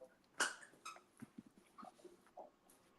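A German shepherd trained to work with disabled people whimpers softly in a run of short, high whines and little yips, fairly faint and close, with no speech over it.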